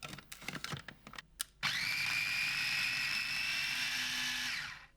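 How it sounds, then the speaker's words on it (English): A mini chopper whizzes garlic, olive oil and seasoning into a puree, running as a steady, loud whir for about three seconds after some brief knocks and clatter. "place them in a mini chopper with either a small or large clove of garlic, or more if you prefer, and a dessert spoon of olive oil"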